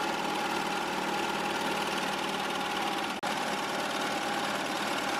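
Embroidery machine stitching a holiday design outline onto a sweatshirt, a steady close mechanical hum with fast fine stitching rhythm, running continuously apart from a brief dropout midway.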